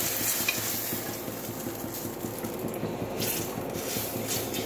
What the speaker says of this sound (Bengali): আমি তেলের মধ্যে একটু জিরা ফোড়ন দিয়ে দিলাম